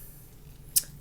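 A single quick snip of scissors cuts close by during a resin crafting session, sharp and brief against a quiet room hum.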